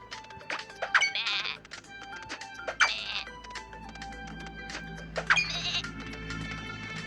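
Goats in an animal-catching video game let out several loud, nasal bleats at uneven intervals over a busy layer of game sounds, with no talking.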